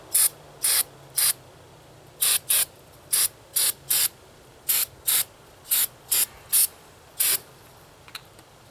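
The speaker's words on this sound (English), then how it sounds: "I'm going to hit that with some carburetor cleaner" Carburetor cleaner is sprayed onto a gas-powered leaf blower in about fourteen short, sharp hissing bursts at an irregular rhythm, close and loud against a quiet background.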